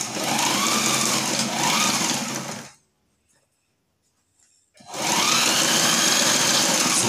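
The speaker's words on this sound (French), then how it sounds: "je suis en train de coudre sur une Surwhite" A portable Sailrite LSZ-1 Ultra Feed sewing machine runs loud and steady in a close continuous whir, stops for about two seconds of silence, then starts stitching again at the same pace.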